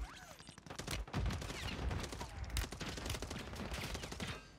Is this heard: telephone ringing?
no